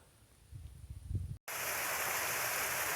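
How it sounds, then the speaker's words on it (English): Furnace Run, a mountain stream coming down off Blue Mountain in Pennsylvania, rushes steadily. After a brief, quieter stretch, a loud, continuous broadband flowing sound takes over, close by. "This is the same stream, Furnace Run, coming down off of Blue Mountain here"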